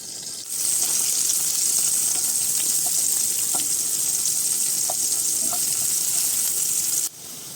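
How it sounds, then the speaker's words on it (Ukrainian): Steady, dense sizzling of chopped onion frying in a pan, loud and continuous for several seconds with a few faint clinks, then stopping abruptly. "Нарізаємо цибулю і починаємо її смажити на пательні."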